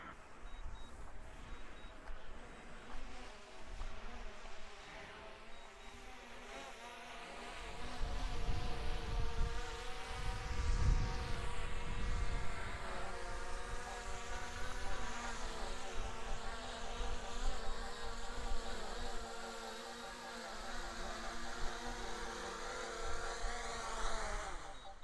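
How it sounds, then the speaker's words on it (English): A DJI Mini 4 Pro drone descends for a precision landing on a marked pad, its steady high-pitched propeller whine and buzz growing louder and closer midway through as it comes down. "It's the shape of the drone, and it's going to land on that H."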